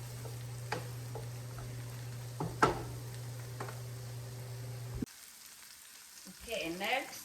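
Mushrooms and onions fry in a pan with a steady, close sizzle and crackle for about five seconds, then the sound cuts to a quieter background with faint stirring at the end.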